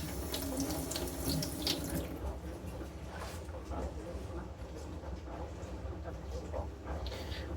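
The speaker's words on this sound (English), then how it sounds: "I can see the water flowing nicely all across the edge" Water running steadily over a Japanese natural Ohira whetstone while a straight razor is honed, a continuous close splashing wash with faint speech mixed in.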